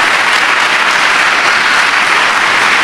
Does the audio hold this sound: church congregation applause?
yes